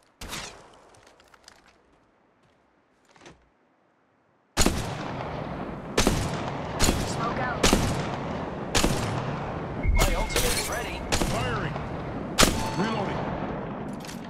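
Repeated gunfire from the mobile battle royale game Apex Legends Mobile: quiet, sparse shots at first, then loud, sustained bursts of automatic fire with sharp, heavy reports at irregular intervals.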